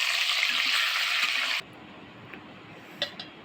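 Marinated chicken hits hot oil with a loud, bright frying hiss for about a second and a half, then cuts off abruptly to a quiet background with a couple of faint clinks near the end.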